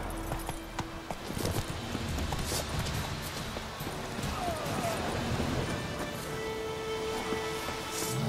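Hoofbeats of the horse Roach in The Witcher 3: Wild Hunt on PS4, a quick, steady clip-clop of galloping under continuous outdoor game ambience and occasional speech.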